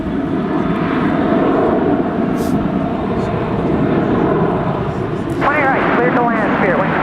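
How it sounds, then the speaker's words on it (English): A jet airliner taxis at Dallas-Fort Worth International Airport, its engine roar loud and close throughout, a rising whine swelling near the end, while people talk over the noise. "that swings around and taxis towards us"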